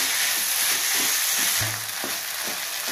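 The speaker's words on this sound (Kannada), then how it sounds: "ಈಗ ಫ್ರೈ ಮಾಡಿರೋಂತ ಬೆಂಡೆಕಾಯಿ ಹಾಕೊಳ್ಳೋಣ. ಇದು ಒಂದು 2 ಮಿನಿಟ್ಸ್ ಫ್ರೈ ಮಾಡಿದ್ರೆ ಸಾಕು" Okra, ladies finger, sizzling in a hot pan for a palya dish: a loud, steady frying hiss throughout with occasional stirring clinks.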